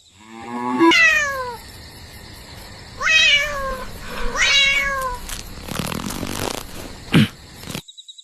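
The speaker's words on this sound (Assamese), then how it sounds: "মেকুৰীয়ে দেখোন তোমাৰ পাতৰ পৰা খাই আছে" A domestic cat meows loudly and close, several drawn-out cries spaced a couple of seconds apart, while eating from a plate, followed by faint rustling and a short tapping.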